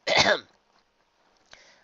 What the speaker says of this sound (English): Trixie coughed.